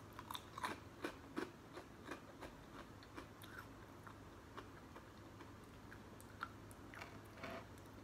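Close, quiet bites and crunchy chewing on a dry piece of rainbow sprinkle donut, with several sharp crisp clicks early on and softer intermittent chewing after, under a steady low hum and no talking.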